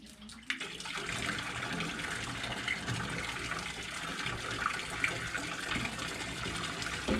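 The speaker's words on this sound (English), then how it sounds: "He'd pour water into this here trough" Water pours steadily into a wooden trough, a continuous rushing splash that holds at an even level throughout after a brief quieter start.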